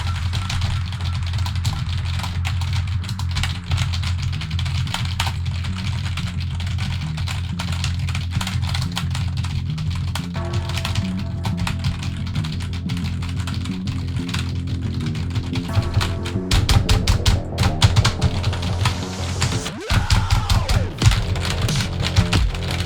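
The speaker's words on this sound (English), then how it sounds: "So you just start hacker typing and then go" Rapid, uneven keyboard typing clatters over a steady low hum, growing busier and louder toward the end, with a few sharper clicks.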